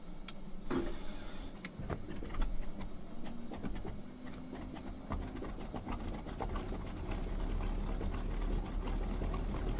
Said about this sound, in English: Okay, so let's start the right engine.